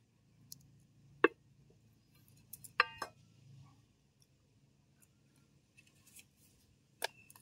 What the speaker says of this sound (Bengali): এবারে আমি এরকম একটা টিফিন কৌটো ঢাকা নিয়েছি, এরকম মাপ করে একটু গোল করে কেটে নেব।